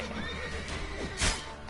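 A horse in The Witcher 3 video game lets out a loud, close whinny, a brief high, wavering neigh over game background noise, ending in a sharp burst of sound.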